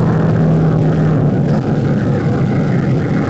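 Fiat Fiorino diesel engine running, a steady, fairly loud rumble with faint mechanical clatter, heard close and without talk.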